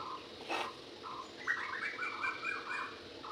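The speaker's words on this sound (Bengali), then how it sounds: "শালিক ডাকছে কোকিল ডাকছে" Outdoor birdsong, with a myna and a cuckoo among the callers: faint repeated whistled phrases and a brief sharp chirp carry from some distance over a quiet rural background.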